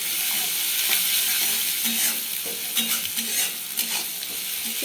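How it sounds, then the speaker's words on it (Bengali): Vetki fish bones sizzling in hot oil with chilli and salt while a spatula stirs and scrapes the pan, a steady crackling fry punctuated by uneven clinks and scrapes, close up. "এটা আমি খুব ভালো করে ভাজা ভাজা করে নেব"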